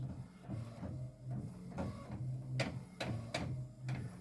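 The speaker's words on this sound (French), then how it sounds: "là, c'est reparti pour l'impression" A photo printer feeding 10x15 cm photo paper runs alone at close range, its motor whirring in a steady low hum broken by repeated clicks and short mechanical ratchets as the sheet advances.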